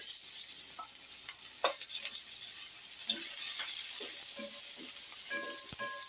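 Shrimp, onion and green chili fry in a pan with a steady, quiet hiss, broken by a few soft spatula scrapes and light clinks against the pan; no one speaks.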